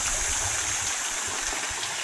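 Fresh water runs at an enchanted beach cave at Patar Beach in Bolinao, Pangasinan, a constant bright rushing and trickling flow without pauses.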